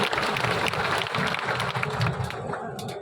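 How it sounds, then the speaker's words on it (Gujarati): A crowd at a political rally of the Banaskantha Kshatriya Thakor community in Gujarat applauds, a thick continuous wash of clapping that stays loud throughout with some voices mixed in. "હાથ ઊંચા કરીને તાળીઓથી એને વધાવી અને આપણે સૌ એને અભિનંદન આપીએ"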